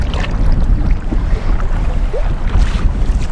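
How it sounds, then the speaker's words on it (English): Strong wind buffets the microphone on an open lake during a canoe trip, a loud continuous low roar with gusts that swell and ease, broken only by faint splashes of water against the boat. "It's really windy out right now."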